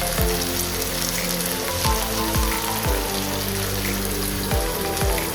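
Green chilli sauce poured into a hot pan for paneer chilli sizzles and fries steadily and loudly, with a constant crackling hiss and a few sharp spatters over music.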